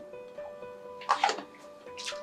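Water sloshes briefly in a sensor calibration cup as it is shaken during a rinse over the turbidity sensor of a Manta+30 water quality probe, heard as two short, close splashing bursts.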